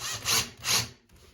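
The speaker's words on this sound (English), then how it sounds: "Just keep your eye on the drill bit as you're going." A drill bores starter holes into a thin wood bathroom cabinet for handles, making two close grinding bursts in quick succession before stopping.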